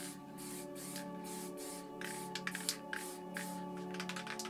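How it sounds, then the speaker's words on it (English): An A.K.A Colors Writer Series spray paint can lightly mists blue paint onto an art piece in short hissing bursts, with quick pulses near the end and a faint background hum underneath. "So I'm just going to press the cap down lightly, the same as I did the mist on the planet here, on the highlighted sides."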